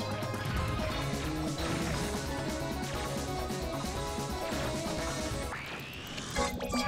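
In the Touhou Luna Nights video game, a cup is dropped and shatters in a dense, loud crash layered over busy game music, followed by a rising sweep effect near the end.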